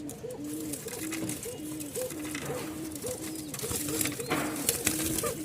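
Pigeons offered for sale at a Bangladeshi pigeon market coo repeatedly in a steady rolling rhythm, close and fairly loud, over a low murmur of background noise and faint voices.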